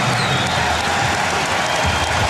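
A basketball arena crowd at a 2000 NBA Western Conference Finals game between the Lakers and Trail Blazers gives a player a steady, dense round of applause, loud and sustained throughout.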